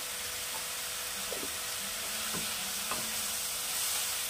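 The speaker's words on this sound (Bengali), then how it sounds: "মশলাটাকে আমি ভালো করে কষিয়ে নেব" A Bengali spice masala of salt, chili powder and turmeric sautés in a pan for potato dal, giving a steady soft sizzle and hiss with a few faint scraping stirs, no voices.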